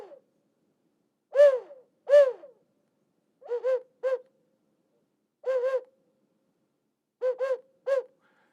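A voice imitates an owl or dove with soft, hollow hoots, made alone in quiet: two longer calls, then paired and tripled shorter ones, spaced across the span at a moderate, close level.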